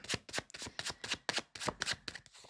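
Tarot cards are shuffled in quick bursts, about ten crisp riffling rustles in a steady rhythm, close and fairly quiet, with no talk.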